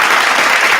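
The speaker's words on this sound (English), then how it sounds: "I gotta give that man a round of applause for that one" Dense applause from a crowd, steady and loud for just under a second, with no breaks in the clapping.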